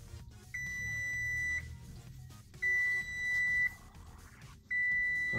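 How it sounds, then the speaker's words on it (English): A kitchen timer sounds three long steady beeps, each about a second long, separated by short pauses, moderately loud over a soft low background hum outdoors. "Our timer just went off."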